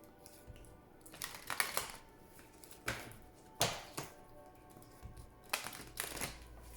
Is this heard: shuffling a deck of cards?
yes